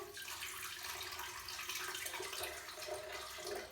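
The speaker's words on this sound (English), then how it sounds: "I'm going to start with the coconut water and put about 8 ounces in." Coconut water pours in a steady, continuous splash into a blender jar, close and even for a few seconds with no talking.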